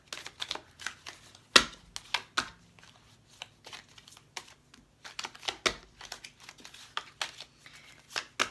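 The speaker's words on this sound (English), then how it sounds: "let me go ahead and just pull some cards." Tarot cards shuffled and pulled by hand: a run of soft, papery flicks and riffles with one sharper snap near the start, close and fairly quiet, no voice.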